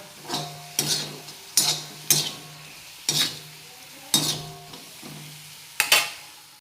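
Chili garlic fenugreek vegetable being stirred in a pan on a gas stove, with about eight sharp spatula scrapes and clinks at an uneven pace over a soft sizzle.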